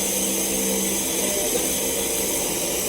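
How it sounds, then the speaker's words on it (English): An electric blender whirs steadily as it purees cantaloupe and honey for ice pops, a constant loud motor drone with no talking over it. "So now we're going to turn on our blender here."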